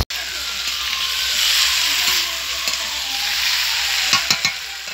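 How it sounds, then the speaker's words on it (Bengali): Eggplant fries in a pan with a constant loud sizzle and hiss, and a few light utensil clinks near the end. "বেগুনটাও ভেজে নিলাম"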